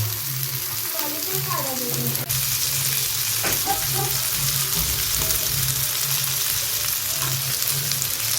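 Bombil (Bombay duck) fish shallow-frying on a hot tawa, a steady loud sizzle throughout with brief utensil clinks and voices talking over it.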